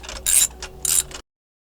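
A hand ratchet clicks in two quick bursts while loosening spark plugs on a four-cylinder waverunner engine, close up and crisp, with brief pauses between strokes.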